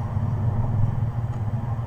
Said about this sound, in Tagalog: maraming ang dumadaan na tricycle kaya medyo mahingan